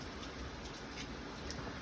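Steady rain falls across the Camino del Norte route in a dense, even hiss with no breaks, moderately loud and uninterrupted by talk or thunder.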